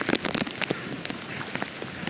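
Rain falls during a forest trek from Panhala to Pawankhind, a dense close patter of drops on leaves and surfaces with scattered louder splats, steady and without talk.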